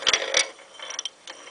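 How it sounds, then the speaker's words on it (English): Metal taps and clinks as the rear axle is knocked out of a 2008 Harley-Davidson Sportster wheel, a few sharp close hits followed by lighter rattling. "And then you tap the axle,"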